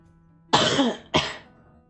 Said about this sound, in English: Sorry if I cough in the middle of dialogue.